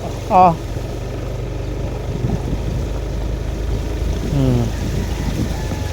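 A Yamaha Aerox motor scooter's engine drones through floodwater in a rural province, with splashing and wind noise, and a sharp horn-like burst near the start; voices talk faintly.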